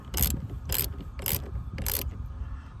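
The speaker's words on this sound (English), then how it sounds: "now we go on over here to the socket wrench." A socket wrench ratcheting to tighten a bolt on a 2019 Ram 1500, four quick, evenly spaced bursts of clicking, close and fairly quiet, with nothing else heard.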